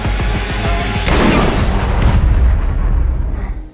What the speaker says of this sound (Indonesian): ternyata orang yang menembak adalah Eve